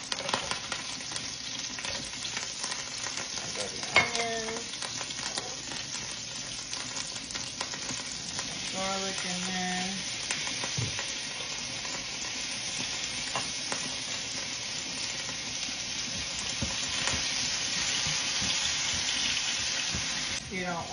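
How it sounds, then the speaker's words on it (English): Garlic and onions frying in avocado oil give a steady, moderately loud sizzle throughout, with a few brief clinks and tonal squeaks early on and a running-water wash in the background. "I just want to add a little bit of avocado oil. I'm going to throw the garlic and the onions in."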